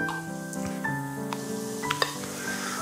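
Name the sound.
chicken pieces frying in hot oil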